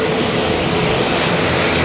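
A propeller airliner's engines drone at the airport in Lanzarote before a flight to Gran Canaria, a loud, steady, close roar holding without a break.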